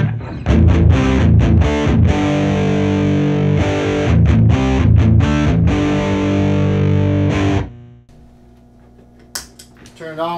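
Heavily distorted electric guitar playing loud chords and stabs with brief gaps, unboosted ahead of an EHX Nano LPB-1 linear power booster, ringing out then fading to near silence before a faint click near the end.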